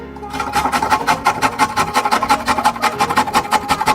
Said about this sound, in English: I'm going to grate some ginger